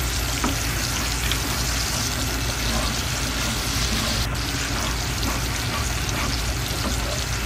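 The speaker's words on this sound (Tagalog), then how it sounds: "Tapos, haluin natin. Medium heat lang tayo." Yema mixture being stirred in a pan over medium heat, a steady continuous sizzle with soft scraping of the spoon throughout, close and even in level with no talking.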